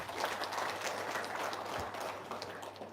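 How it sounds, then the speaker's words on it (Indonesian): Audience clapping at a religious talk gathering, a dense steady patter of many hands sustained for a few seconds at moderate loudness with no speech over it. "Iya, tepuk tangan dong."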